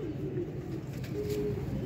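Pigeons cooing in a loft, low throaty coos repeating steadily over a constant background hum.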